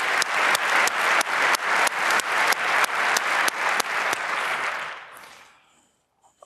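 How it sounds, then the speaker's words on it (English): An audience at a computer security conference talk applauds the students who helped with the research. Steady crowd clapping carries regular rhythmic accents, then dies away over the last second or so. "All right, applause for the students."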